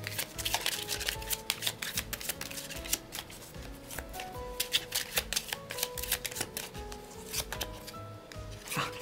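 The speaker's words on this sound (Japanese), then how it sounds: "ちょっとオラクルカードに1枚もらってみますね。" Oracle cards are shuffled and drawn by hand, giving a dense, continuous papery riffling and rubbing with quick flicks, close and steady over soft background music.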